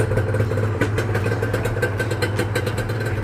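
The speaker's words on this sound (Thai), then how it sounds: "เครื่องนี่เดินเบานิ่มๆเลยนะครับ" A Honda NSR motorcycle engine with a new exhaust pipe idles steadily and close by, a smooth low rumble with a faint ticking clatter and no talking.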